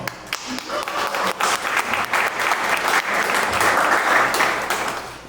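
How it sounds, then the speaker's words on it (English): Audience applause for event sponsors at a live story slam, a broad wash of clapping that swells steadily and holds for several seconds, with a few voices mixed in. "Please give them a round of applause."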